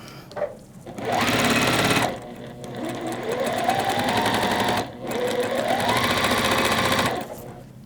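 A sewing machine stitches wreath quilt block pieces together in long, steady whirring runs with brief pauses between them, close and loud, while a faint voice speaks briefly.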